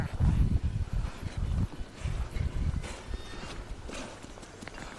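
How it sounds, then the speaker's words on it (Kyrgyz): A horse being shown at a Kyrgyz horse sale walks outdoors, its hooves clopping in an uneven rhythm close by, with some wind noise and no talk. "Чынында жакшы ат экен."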